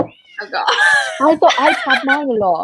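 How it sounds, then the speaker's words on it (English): A cat's meow sounds at the start, then a person speaks over more cat vocal sounds, close and loud. "my cat's crying for no reason"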